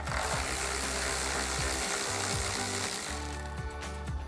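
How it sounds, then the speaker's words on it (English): A hand ratchet fitted with a 10mm socket removes the centre grille bolt on a vehicle during a projector headlight install. It gives a loud, close, rapid mechanical clicking that runs continuously and eases slightly toward the end. "So we'll grab a 10mm socket to take that out."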